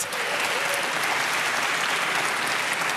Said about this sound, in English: Okay, applause for that.